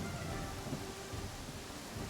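Steady rain with rumbling thunder in the video game Pathfinder: Kingmaker, a constant broadband downpour holding at even loudness throughout, with low rolling thunder underneath and no voices.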